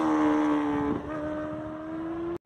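A 2020 Honda CBR1000RR-R Fireblade SP superbike with an Akrapovič exhaust revs, its engine note a strong steady tone that dips and settles at a higher pitch before a sudden cut-off, loud and close.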